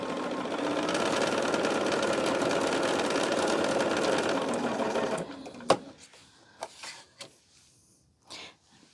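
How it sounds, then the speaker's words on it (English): A sewing machine stitches fabric with a steady, close, busy mechanical whir for about five seconds, then stops, leaving scattered clicks and handling taps. "Got to make sure we're lined up here good so we're not sewing off the edge."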